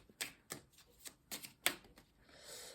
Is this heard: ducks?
no